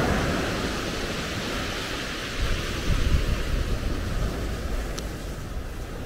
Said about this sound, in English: And so we end the day watching the waves come in.